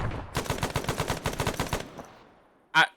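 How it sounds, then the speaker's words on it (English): A machine gun in a military combat video game fires one fast, sustained burst of evenly spaced shots at an enemy mortar position. The burst fades out, and a short sharp sound follows near the end. "shooting what I suspect is a second mortar position"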